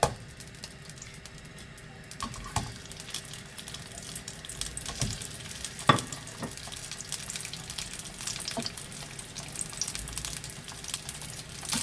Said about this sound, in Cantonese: 將啲芋頭糕放落去煎